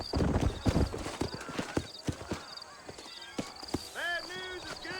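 Horse hooves clip-clop in a quick galloping rhythm in Red Dead Redemption, with a horse whinnying near the end and game voices talking over the hoofbeats.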